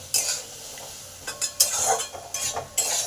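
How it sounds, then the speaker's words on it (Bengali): A spoon scrapes and stirs potatoes with salt and turmeric in a pan for jhinge aloo posto, giving several close, quick scraping strokes with short pauses between them. "নুন আর হলুদটাকে ভালো করে আলুর সঙ্গে মিশিয়ে দিলাম।"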